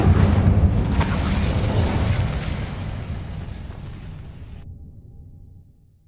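A fire spell cast in the video game Hogwarts Legacy bursts out as a heavy, roaring whoosh of flame, loud and full at the start, then fading steadily over several seconds to a quiet tail.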